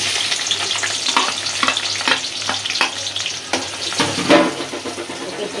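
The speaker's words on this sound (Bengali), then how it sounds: "কড়াই দিয়ে দিছি তেল গরম হয়ে গেছে পেঁয়াজ দিয়ে দিতেছি" Onions hit hot oil in a wok and crackle with a loud, continuous sizzle, broken by scattered clatters of stirring against the metal.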